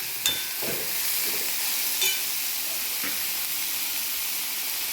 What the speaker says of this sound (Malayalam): രണ്ട് പച്ചമുളക് കൂടെ അതിലേക്ക് ഇട്ട് കൊടുത്ത് പിന്നെ ഇളക്കി